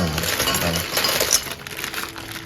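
Halloween candies, lollipops among them, tumble and clatter into a bowl in one pour, a dense run of small hard clinks and rattles that tapers off after a couple of seconds.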